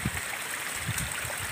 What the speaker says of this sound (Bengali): আমরা যে পথে উঠছি সেই পথ দিয়ে জল নামছে।